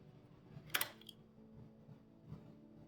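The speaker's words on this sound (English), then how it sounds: "To fire the shutter, simply depress the firing button and the shutter will fire." A Wollensak Optimo camera shutter is fired, giving one sharp, quiet mechanical snap followed by a smaller tick, set against a faint steady room hum.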